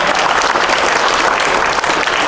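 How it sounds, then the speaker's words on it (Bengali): Loud, dense applause from a crowd at a web series grand premiere, continuous clapping filling the whole stretch without a break. "জোরে হাততালি হয়ে যায়।"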